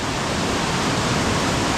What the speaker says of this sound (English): Looks so good with all the white water coming down it.